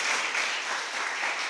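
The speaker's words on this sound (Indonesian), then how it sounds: "Kita berikan tepuk tangan pada One Vision." An audience at an Indonesian business networking seminar bursts into brief, dense applause, with many hands clapping together in a continuous close wash of sound.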